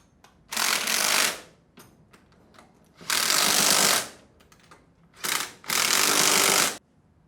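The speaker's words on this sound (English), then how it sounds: "Go around, make sure all the bolts are tight" Bolts on a Sandpiper HD20F non-metallic air-operated pump are tightened with a power tool, making three loud, steady bursts of buzzing mechanical noise, each lasting about a second, separated by short quiet gaps with faint handling clicks.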